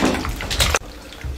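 Oranges (malta) being washed under running tap water, a steady close splash and gush that cuts off abruptly partway through, then resumes faintly.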